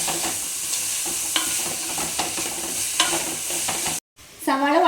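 Thinly sliced onions and crushed ginger being stirred and sautéed in a pan, a loud continuous sizzle with periodic scraping strokes, broken by a brief cut and a short voiced sound at the end.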